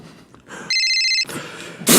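An old-fashioned telephone bell rings in one brief, bright electric burst, close and loud, followed by shuffling noise and another sharp sound.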